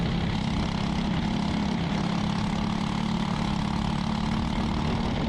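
Ghost Racing engine on a kart chassis built for KA100, running in the LO206 class, with a steady loud droning hum and no change in pitch throughout.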